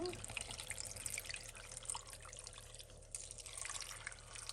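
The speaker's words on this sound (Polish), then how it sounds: "I teraz wszystko delikatnie zalewam wodą." Water is gently poured over vegetables in a cooking pot for Polish chicken broth (rosół), a faint steady trickle and splash running throughout, quiet and close.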